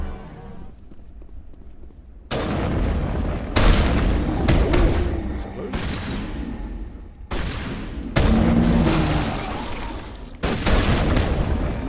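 A heavily modded sniper rifle fires in Mass Effect Legendary Edition, five loud, booming shots spaced a second or more apart, each a sharp blast with a rumbling tail.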